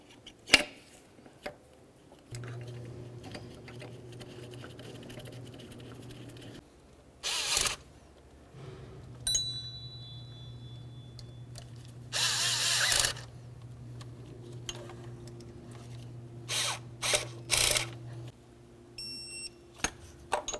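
Ratchet tightening water pump bolts on a 2006-12 Ford Fusion, heard as quiet, scattered clicks and short mechanical bursts, with a steady low hum and occasional sharp tonal beeps.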